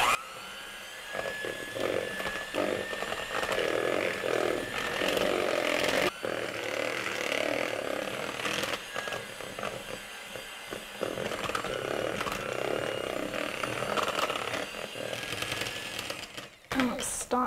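Electric mixer beating German sweet chocolate pie filling for a frozen dessert, a steady loud motor whir with grinding rattle running nearly continuously, dipping briefly mid-way and near the end, with a person talking over it.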